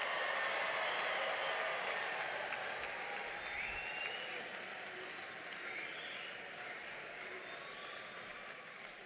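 A large audience at a nursing and public health graduation ceremony applauds the new graduates, a dense, sustained wash of clapping heard from a distance that holds steady and slowly tapers.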